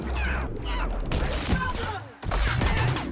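Gunfire from a weapon in The Outer Worlds, a run of loud shots and impacts packed close together, briefly cutting out before resuming, with a game character's voice mixed in.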